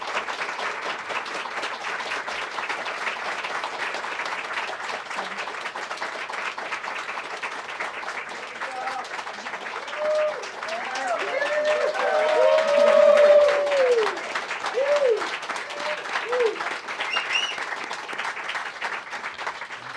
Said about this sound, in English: You have the largest round of applause I've ever heard in this room.